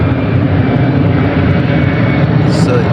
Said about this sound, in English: You hear that plane